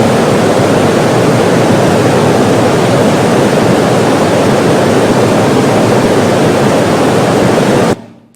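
ISTS speech-shaped noise test signal, a dense, loud, continuous hiss filtered to the long-term spectrum of speech, playing steadily for about eight seconds before cutting off abruptly.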